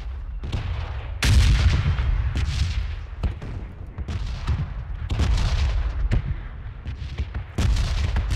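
Bombs and heavy gunfire in an online multiplayer shooter: repeated loud booming blasts and sharp shots crack out every second or so, some near and some distant, in a dense, relentless battle barrage.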